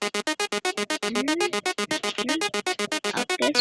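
Sprunki video game character Darple's sound: a rapid run of short, evenly pulsed tonal bursts with gliding pitch sweeps between them, steady and fairly loud, with no talk.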